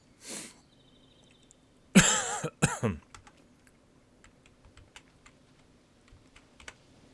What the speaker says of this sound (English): And you're going to hear me coughing.